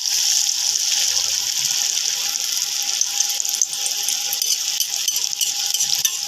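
Egg bread tikka fries in hot oil over a low flame, giving an even, bright sizzle that crackles close by without a break.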